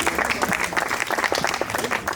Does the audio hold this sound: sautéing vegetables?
no